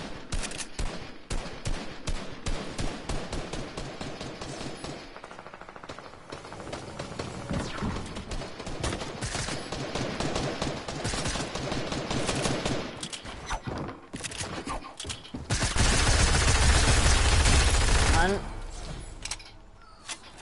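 An SMG fires in Fortnite in rapid bursts and repeated strings across the span, with a louder sustained blast near the end and a voice talking under the shots.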